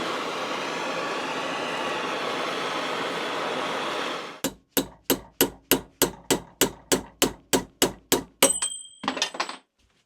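A hammer strikes a chisel again and again to drive out a spindle bearing, about a dozen sharp, evenly spaced metallic blows ringing close and loud after a long steady hiss of heating, then a brief clatter at the end.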